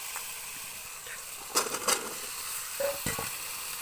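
Chopped pumpkin and potato drop into spices frying in a pan and are stirred. A soft sizzle runs under a few louder scraping and tossing bursts, fairly quiet overall.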